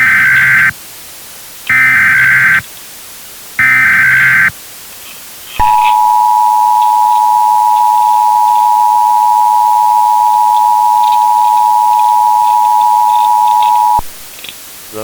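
A phone line gives a busy signal: three loud pulsed tone bursts at an even rhythm, then a long unbroken steady tone that holds for about eight seconds before cutting off.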